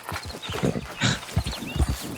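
Horse hooves clip-clop in a steady uneven rhythm in Red Dead Redemption 2, close and fairly loud, with game ambience around them.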